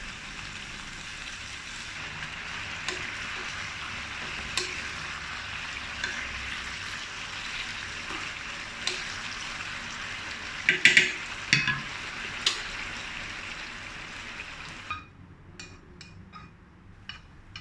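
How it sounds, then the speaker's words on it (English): Beef and broccoli stir-frying over high heat in a pan, a steady dense sizzle with scattered scrapes and clacks of stirring, close and loud, dropping away suddenly near the end to a quieter crackle. "fry over high heat for about 20 seconds"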